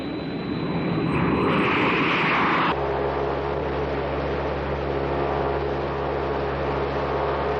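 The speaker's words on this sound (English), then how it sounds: "he's heading in south-southeasterly direction in a Green Angel executive aircraft" A Green Angel executive aircraft flying in a Thunderbirds episode: a close engine roar with a rising whine that shifts into a steady low droning hum inside the cabin, continuous throughout with no voices.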